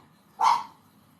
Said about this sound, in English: I have a tiny dog and he has to bark at everything.